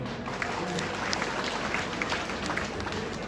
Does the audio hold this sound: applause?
yes